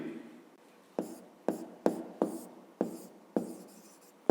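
Pen strokes scratch across paper while a maths sum is written out by hand, coming in a steady run of sharp, separate bursts about every half second, close and quiet with no talk.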